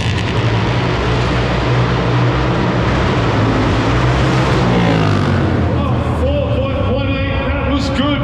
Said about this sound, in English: He goes up there on the rev limiter.